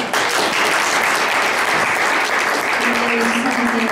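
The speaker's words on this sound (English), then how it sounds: "An applause for you." Sustained, dense audience applause at a panel event on cross-cultural patient care, loud and steady throughout with a faint voice emerging near the end.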